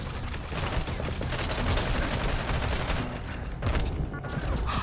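Gunfire from a sniper rifle in Metal Gear Solid 5, a dense run of loud, overlapping reports and echoes filling several seconds with brief dips between bursts, with no voices.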